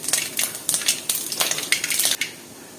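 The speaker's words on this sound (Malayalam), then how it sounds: "കടുക് ഒന്ന് പൊട്ടി വരട്ടെ." Mustard seeds pop in hot oil in a pan, giving a quick run of sharp, close crackles and snaps in irregular bursts before tapering off.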